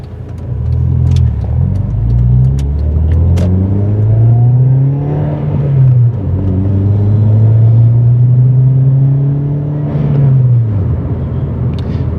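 A Rover Streetwise car engine revs up and holds, its pitch rising and falling in long sustained sweeps, loud and close throughout with no talking.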